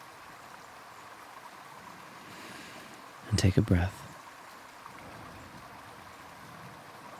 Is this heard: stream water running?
yes